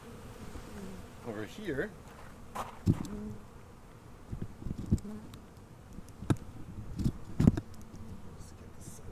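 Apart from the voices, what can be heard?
bees flying around a hive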